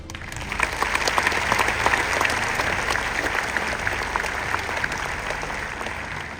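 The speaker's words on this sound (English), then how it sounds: "please join me in a loud round of applause for Dr. Renee Grant" Graduation ceremony audience applauding steadily for several seconds, a dense, even wash of clapping from a large crowd at moderate loudness with no voices on top.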